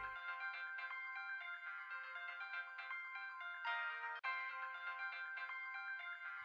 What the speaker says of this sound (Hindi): ये तो प्रिया का फोन है।